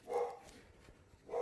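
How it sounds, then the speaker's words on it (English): Two sharp dog barks, one near the start and one at the end, with a quiet gap between them. "sorry about the dogs, guys."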